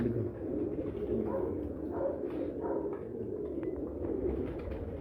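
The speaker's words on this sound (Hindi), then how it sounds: "एक और गोल्डन कबूतर हमारे सामने है," A golden pigeon at a pigeon breeder's loft gives low, murmuring coos in a steady run, close and fairly soft, against a busy background of other birds and faint room noise.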